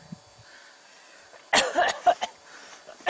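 A person at Everest advance base camp coughs hard, a short burst of harsh coughs close by, then one more after a pause, over faint low background.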